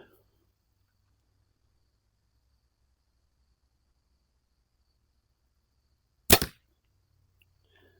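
A single arrow leaves a bow and strikes a target with one short, crisp smack after several seconds of near silence outdoors.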